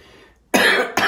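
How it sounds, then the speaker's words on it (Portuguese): Two sharp, close coughs, the first longer and harsher, the second a short burst right after, with near silence before them. "Ai, tô tossindo, peraí."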